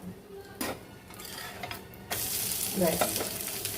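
An egg and broken-wheat paratha, brushed with a little oil, fries on a pan; soft scrapes and taps come first, then a loud, steady broadband sizzle swells up close.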